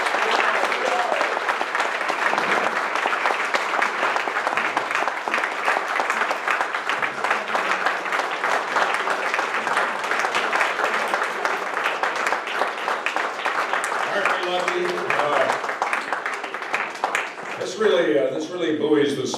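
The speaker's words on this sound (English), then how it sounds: "Ladies and gentlemen, round of applause" Sustained applause from a banquet audience at a bomb group reunion, dense steady clapping filling the room for nearly the whole stretch before tapering off near the end.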